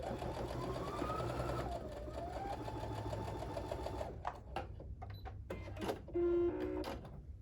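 A sewing machine stitches a quilt block seam in a steady whirring run, then stops and gives a few short bursts with clicks, close and fairly quiet.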